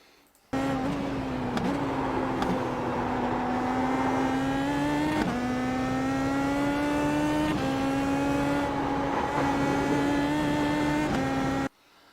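A race car engine drones steadily and loudly on a lap of the Nordschleife, held in second gear, its pitch dipping and climbing with small shifts as the car drives through bends, with no talk over it.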